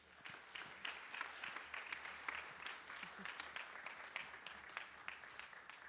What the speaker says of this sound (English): If we can give the Assembly of Assemblies a round of applause.